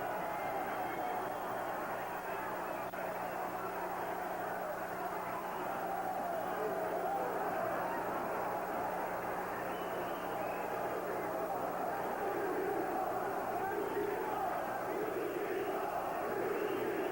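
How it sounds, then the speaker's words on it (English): A fight crowd chanting steadily at a grappling event, a continuous roar of massed voices with a dense, unbroken texture that holds at a constant level throughout. "As the crowd chants the seconds away"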